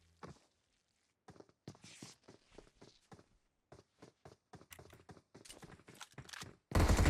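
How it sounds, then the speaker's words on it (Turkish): Footsteps on the Erangel map in PUBG Mobile, a series of quick, evenly spaced thuds of varying loudness, closing with a sudden loud blast. "Ayak sesi."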